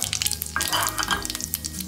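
Mustard seeds sizzle and crackle in a little hot oil while a yogurt tempering is made for boondi raita, a steady close frying hiss with bursts of popping.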